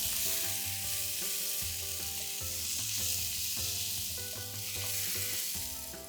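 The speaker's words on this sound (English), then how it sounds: "we're going to add in some medium cubed potatoes" Cubed potatoes and tomato fry with onions in a pan, giving a steady, close sizzle with a few soft stirring scrapes, and no one speaks.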